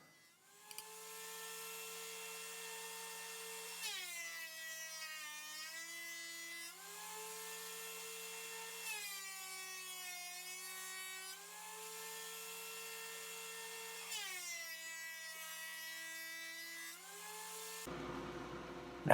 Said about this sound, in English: Now I'm going to be passing this through the thickness planer until I get it down to where I need it